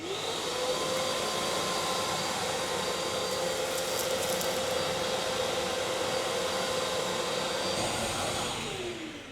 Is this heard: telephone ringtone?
no